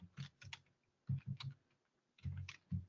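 Computer keyboard keys clatter in three quick bursts of close, crisp clicks with short silent gaps between them, heard alone with no voices.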